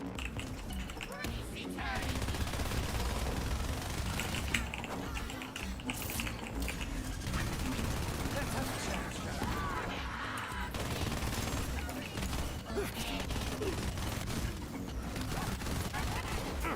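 SMG Executor fire in a video game comes as rapid, repeated bursts and clatter layered over a busy, constant game soundscape, with a player's voice now and then.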